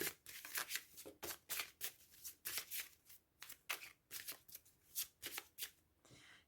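Tarot cards are shuffled by hand in quick, repeated riffles and slaps, a close, crisp rapid patter with brief gaps, quiet overall.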